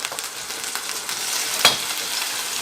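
Oil and tomato sizzle steadily in a frying pan, a constant hissing crackle close by with a brief clink partway through.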